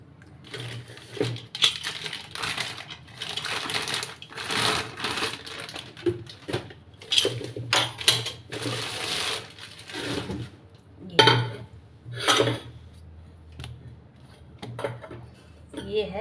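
A new 2 litre pressure cooker is handled close up, giving irregular metallic clinks, taps and rattles in scattered bursts with quiet gaps between them.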